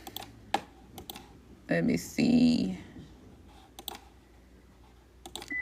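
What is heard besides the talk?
typing on a computer keyboard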